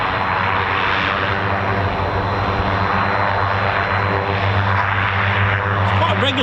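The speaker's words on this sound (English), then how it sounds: "if it is a Xingu, I'm pretty sure that's got a PT6 engine." Turboprop aircraft, an Embraer Xingu with PT6 engines, drones steadily overhead at a military air exercise, a loud continuous propeller hum with low engine tones, holding throughout.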